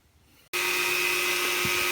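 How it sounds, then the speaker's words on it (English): A Dremel rotary tool with a small wire wheel cleaning a part of a vintage Tamiya Frog RC car's speed controller; a loud, steady high-pitched whine starts abruptly after a brief quiet moment and runs on, close up. "just running over the little wire wheel on the Dremel"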